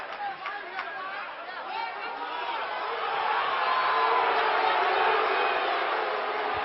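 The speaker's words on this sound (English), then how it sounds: "This already very excitable crowd has really gotten themselves into a battle." A packed arena crowd at a Nevada at Utah State college basketball game roars with dense chatter and cheering, steady at first and swelling louder and more excited in the second half, with no single voice standing out.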